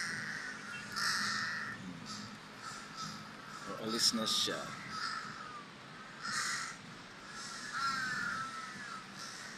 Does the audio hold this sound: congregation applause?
no